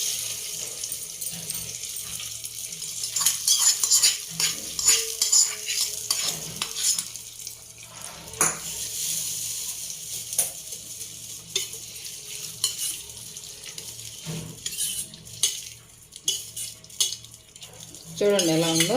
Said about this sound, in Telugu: దీంట్లో కలుపుకుందాం.